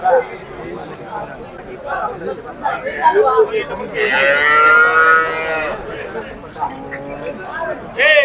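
A Punganur cow lets out a long, loud moo amid a busy crowd of people chatting nearby at a cattle market, with livestock bustle all around.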